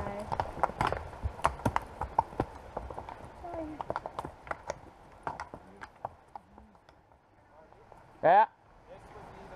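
A very large horse's hooves clip-clop along a trail by Junction Creek in Kananaskis, a string of uneven close thuds and clacks, with people talking over them and a brief louder sound near the end.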